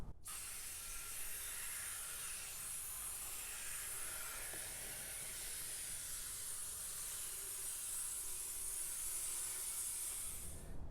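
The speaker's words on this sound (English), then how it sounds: "now you're just going to want to go back and rinse everything off" A water spray rinses a car door jamb in a steady, unbroken hiss, faint and even throughout with no talking.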